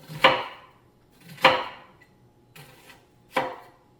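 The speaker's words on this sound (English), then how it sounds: "makes your eyes water when you peel or chop an onion" Knife chopping an onion on a board: four crisp, separate strikes roughly a second apart, close and clear, with no one talking.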